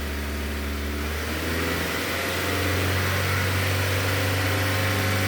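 2006 Nissan Y11 AD with a QG15 engine running close by, a steady loud hum that swells and rises in pitch as it accelerates partway through.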